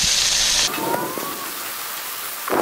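Sculpin fish sizzles on a hot grill with a loud, steady hiss. The hiss is strongest at the start, settles lower and constant, then swells again near the end.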